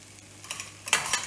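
Onions frying in a pan for a masala sandwich filling: near-quiet at first, then soft sizzling and a few scraping stirs building toward the end.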